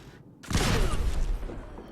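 A modded Gatling laser from Fallout 4 fires into the ground, a sudden loud whooshing blast after a brief silence, sustained with a sizzling, buzzing tail that slowly fades.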